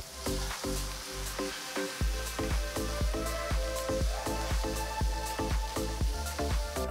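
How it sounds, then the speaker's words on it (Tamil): Finely chopped ginger, green chili and onion sauté in a pan for Chettinad kuzhi paniyaram, giving a steady close sizzle and occasional stirring under a rhythmic music beat. "பொடுசா நறுக்கின 1 துண்டு இஞ்சி, பொடுசா நறுக்கின 2 பச்சை மிளகாய், பொடுசா நறுக்கின 1 வெங்காயம் சேர்த்து நல்லா வதக்கலாம்."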